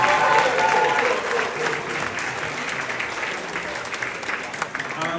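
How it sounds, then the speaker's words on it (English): Audience applause at a youth football club awards ceremony, a steady wash of many hands clapping indoors, loud at first and easing slightly while continuing throughout, with some crowd noise mixed in. "So another round of applause for Arik."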